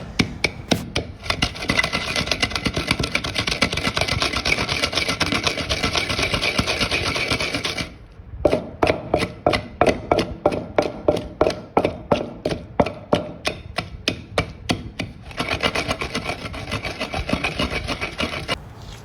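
Sardai ingredients with black pepper and rock sugar are ground in a kunda mortar, a steady rhythmic pounding and rubbing of pestle on mortar, loud and close, with a brief pause partway and then faster, distinct strikes.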